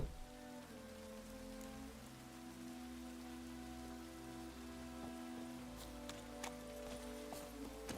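Soft, steady rainfall in The Witcher 3: Wild Hunt patters over a low sustained hum, with a few brighter drips and taps toward the end; quiet and continuous.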